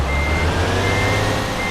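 Truck reversing alarm in the Euro Truck Simulator 2 driving game, a steady high beeping tone held over a loud low engine rumble throughout, close and continuous with no talk.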